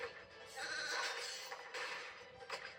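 A sheep creep enemy from a Skylanders video game bleats in a few wavering, nasal cries close up, one after another with short gaps, no voices over them.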